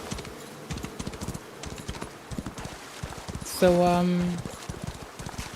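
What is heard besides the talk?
horse hooves clip-clopping in a video game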